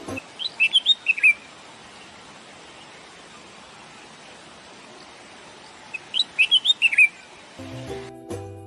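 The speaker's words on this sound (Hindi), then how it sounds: "बुलबुल पक्षी है जिसकी बोली बहुत मीठी होती है। सुनिए।" A bulbul sings two short bursts of sweet, bright chirping notes several seconds apart over a steady hiss of background noise, with a brief unrelated sound at the very end.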